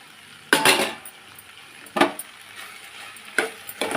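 Ivy gourd (dondakaya) fries in a pan and gets stirred, with a spatula scraping and clanking against the pan in four distinct bursts over a soft, steady sizzle.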